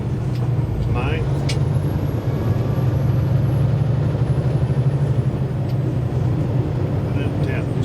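A 2017 Kenworth T680 truck shifting up to 10th gear with an Ultra Shift Plus transmission, its engine a steady loud low drone throughout, heard from inside the cab with a voice talking over it.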